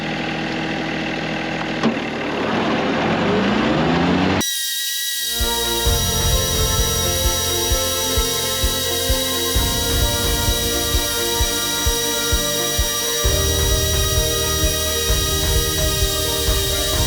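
A tractor with a hydraulic mower runs steadily with a loud mechanical drone and regular ticking pulses, broken by a brief quiet gap near the start, with no voices.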